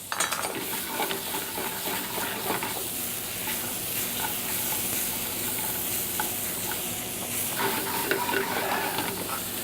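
Butter-sautéed ingredients for potato-crushed cod sizzle steadily in a pan, with a spoon or spatula stirring and occasionally scraping the metal; the frying is close and fairly loud, with no talk.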